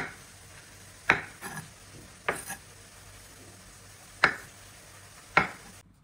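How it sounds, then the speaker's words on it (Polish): A knife strikes a cutting board a handful of times, quartering mushrooms, sharp isolated chops spaced irregularly in a quiet room. "Pieczarki kroję na 4."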